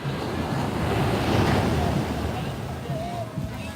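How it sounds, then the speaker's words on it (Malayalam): Ocean waves wash onto a beach in Bali, a broad close surf roar that swells and fades, mixed with wind buffeting the microphone. "ബാലിയിൽ ഒരു കടൽ തീരത്താണ് കേട്ടോ"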